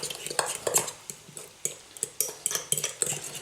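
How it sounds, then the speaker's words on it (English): Burger sauce with gherkin, Worcester sauce and salt being mixed in a bowl: quick, close, irregular clinking and scraping of a utensil against the bowl, with no talk over it. "all I'm doing now is just giving that a mix together"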